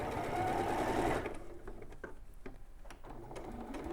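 A domestic sewing machine stitches a polar bear appliqué onto a quilt, with fabric held taut. It whirs loud and steady for about a second, then drops to a quieter run of fine stitching rattles.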